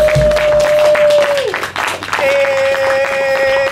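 An audience at a live band show applauding, a thick, continuous patter of clapping heard nearby, with a steady tone ringing underneath that fades out midway and then returns.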